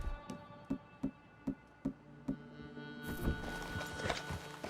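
Horse hooves clip-clop in a steady walking rhythm in Red Dead Redemption 2, six clear beats, then a louder jumble of hoof sounds with a busier background.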